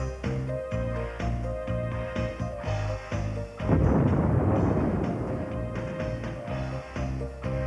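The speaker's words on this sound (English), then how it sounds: "Enemy ammunition ships leave a distinct telltale explosion in their total destruction." A massive explosion from an enemy ammunition ship destroyed at sea after an F4U Corsair attack, a loud broadband roar that erupts midway and rumbles on under steady droning music.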